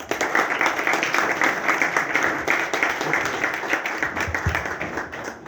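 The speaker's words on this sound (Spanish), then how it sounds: "Para la cual pido un aplauso." An audience applauds at a book presentation, dense, steady clapping from a room full of people that carries on evenly throughout before easing slightly at the end.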